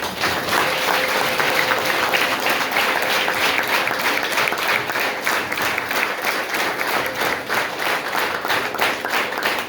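A church congregation applauds its pastors at an anniversary service, a dense, steady wash of many hands clapping together that holds for about ten seconds, full and enveloping with no voices on top.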